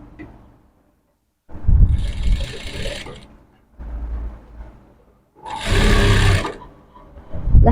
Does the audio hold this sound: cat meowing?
no